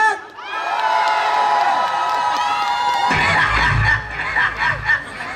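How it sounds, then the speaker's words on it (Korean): A large concert crowd cheers and screams loudly and continuously, with a deep rhythmic musical thump joining partway through. "자, 우리 큰 함성으로 시작해볼까요?"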